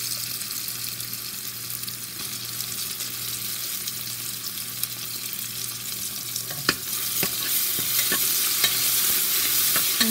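Onion and tomato sautéing in a pan for a brinjal and drumstick tamarind curry, giving a steady broad sizzle with a few sharp spatula scrapes and knocks.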